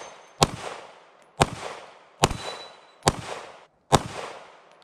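Five sharp gunshots from a Walther PDP Full Size 4-inch 9mm pistol ring out, spaced about a second apart, each loud crack trailing off into a brief echo.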